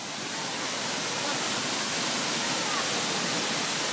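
Kabigan Falls pouring as a dense, steady broadband roar of falling water that stays constant and fairly loud throughout, with no clear voices above it.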